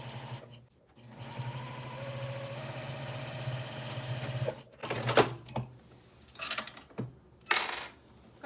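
A sewing machine stitches the seam of a fabric project bag at a half-inch allowance, a steady close whir running for several seconds before stopping, followed by a few sharp clicks and knocks.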